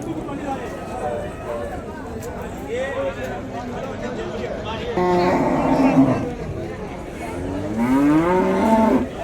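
Jersey cows moo repeatedly at a busy cattle market, several long drawn-out calls close by, rising and falling over a background of crowd chatter and voices.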